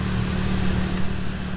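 A pickup truck engine idling low and given a faint touch of gas while reversing during a water rescue, a steady near rumble with no talk.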